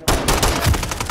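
Gunfire in a video game, a loud close burst of rapid shots packed into about a second, dense and booming with no talk over it.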